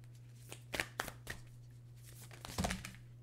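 A deck of self-care oracle cards is shuffled nearby: quiet riffling flicks, several brisk strokes and then a denser burst, soft and close against a faint low hum.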